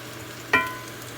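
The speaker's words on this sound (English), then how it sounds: "So off rip, you can hear the sizzle." A steady, soft sizzling hiss from a hot pan, with a single brief metallic clink partway through.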